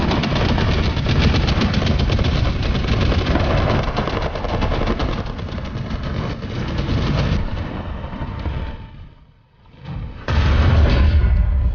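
A tank in War Thunder reverses while firing its gun. A loud, dense engine roar runs throughout with heavy booming shots. The noise briefly drops away near the end, then surges back loud.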